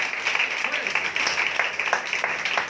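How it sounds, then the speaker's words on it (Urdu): A church congregation at a Sunday meeting bursts into loud, dense applause, a continuous wash of many hands clapping close by for a few seconds. "زوردار تالیاں"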